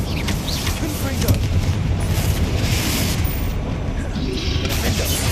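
A Confringo spell explosion in Hogwarts Legacy, heard as loud, rumbling, continuous booming blasts with crashing debris and dense game effects throughout.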